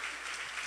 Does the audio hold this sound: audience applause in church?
yes